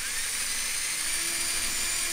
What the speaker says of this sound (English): now I'm going to take my drill, mix it, and see what I got